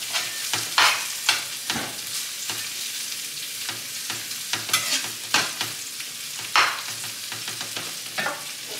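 Onions sizzling and frying in a skillet, a steady close crackle broken by repeated scraping stirs and clatters of a utensil, with no voices.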